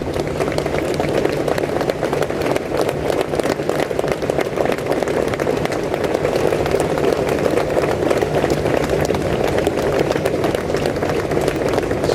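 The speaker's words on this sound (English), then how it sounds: "spontaneous applause there after that minute's silence." Spontaneous applause from a large outdoor crowd gathered in Place de la République, Paris, just after a minute's silence for national mourning; steady, dense clapping fills the whole stretch at an even level with a faint murmur beneath.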